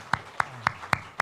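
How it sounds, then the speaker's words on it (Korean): A church congregation claps during a Sunday service in five sharp, evenly spaced claps at a brisk, steady rhythm, fairly close and without talk. "박수 환영하겠습니다."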